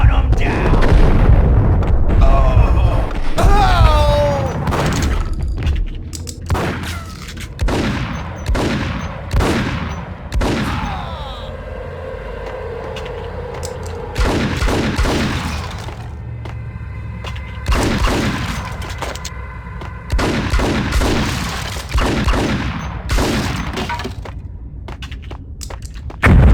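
Repeated bursts of gunfire and booming shots from the 2001 video game Max Payne ring out in loud clusters across the clip, separated by short pauses, with someone talking in between.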